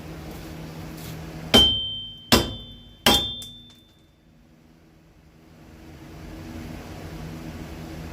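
Three heavy metallic blows from a large hammer on a 1996 Toyota Camry brake part ring out at an even pace, each with a bright clang that decays, then quiet workshop hum follows.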